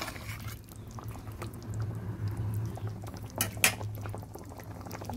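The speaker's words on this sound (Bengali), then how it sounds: "নেড়ে চেড়ে দিচ্ছি।" Katla fish curry with coriander simmering in a pan while being stirred: a low bubbling boil under soft scrapes, with a couple of sharp utensil clinks near the end, close and fairly quiet.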